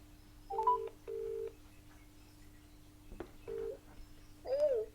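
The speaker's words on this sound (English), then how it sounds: "I'm going to phone Lily, see." Telephone keypad tones dial a call, several short steady beeps spaced apart with a brief click and a warbling tone near the end, over a faint constant hum in a quiet room.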